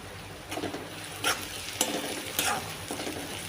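Onions frying in a pan until reddish for a dhaba-style masala bhindi: a close, continuous sizzle with a few sharp scraping stirs roughly every half second, and no speech.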